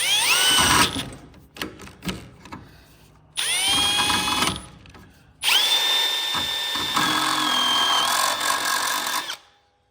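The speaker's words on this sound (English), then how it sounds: "we can finish with the drill bit." A power drill bites into a metal mower blade brake part in three bursts, whining and grinding with a rising pitch, stopping between runs, fairly close and loud.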